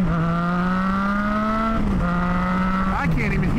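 A loud Triumph Tiger 660 sport motorcycle engine drones steadily while riding, its pitch rising slowly, dipping briefly and then climbing again, with constant wind and road roar underneath.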